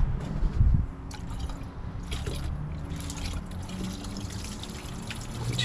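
Thin, watery engine flush liquid drained from an LT1 V8 pours and drips steadily onto a driveway, a continuous close trickle with scattered drips and no talking.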